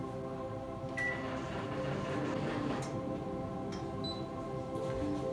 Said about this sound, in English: now I'm going to try the microwave for 2 minutes with all four batteries